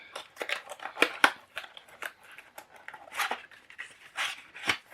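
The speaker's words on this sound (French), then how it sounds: "Donc déjà je vais la déballer devant vous." Unboxing of a Bluetooth controller adapter package for an Atari ST: close, sharp snips and crinkling packaging in irregular bursts, with brief quiet gaps between.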